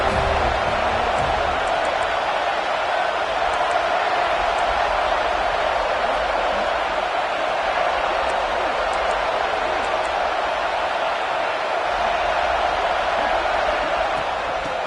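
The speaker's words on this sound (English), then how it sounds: "Big third down as the crowd gets behind this defense." College football stadium crowd in an NCAA video game, roaring steadily behind the defense on a third down; a dense, constant wash of cheering that stays level from start to finish.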